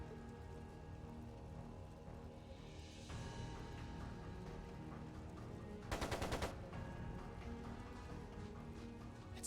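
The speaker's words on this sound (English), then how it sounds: "It sounded like a machine gun." Machine gun fire in Trails of Cold Steel 2, a short, rapid rattling burst of about half a second standing out over a continuous music and ambient bed, fairly faint overall.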